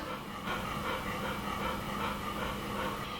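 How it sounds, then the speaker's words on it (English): Steady, rhythmic panting of a roughly 15-year-old dog, close and fairly loud, continuing without pause against a low background hum. "If you listen close here, you can hear my dog panting very loud."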